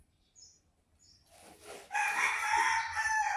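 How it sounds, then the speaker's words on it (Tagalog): Backyard chickens give a few faint clucks and chirps, then a rooster crows loudly and close by, holding the call to the end. "Ingay ng mga manok."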